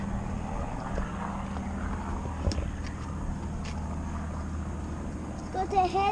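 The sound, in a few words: old propeller aeroplane flying overhead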